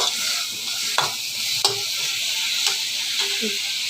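Food frying in a pan, a loud close sizzle with several sharp clicks of a spatula stirring and scraping at irregular intervals, no voices.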